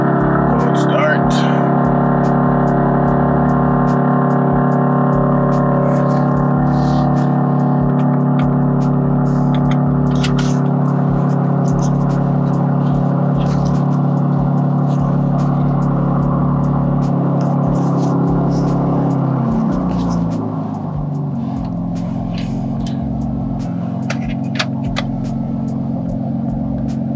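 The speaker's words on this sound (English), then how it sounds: "Cold start." A BMW M3 G80 engine cold-starting, a loud sustained rumbling idle with a raised, steady drone that settles to a lower, rougher tone toward the end, close and dominant.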